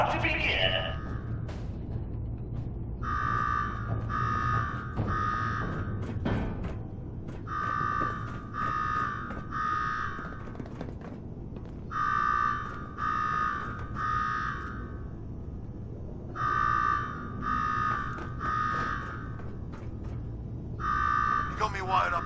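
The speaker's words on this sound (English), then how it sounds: "Now go shut off that damn alarm." An alarm in the video game Fallout 4 blares in groups of three loud buzzing pulses, the bursts repeating at regular intervals while people talk beneath it.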